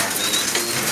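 Young pigeons being set out in the morning sun give a brief, close, soft coo over a light, breathy background.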